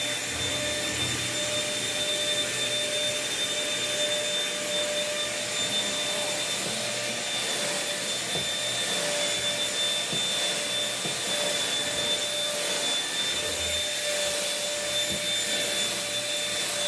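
A Kirby vacuum cleaner runs on carpeted stairs, giving a loud, steady motor drone with a constant high whine that holds unbroken for the whole stretch, with no talking.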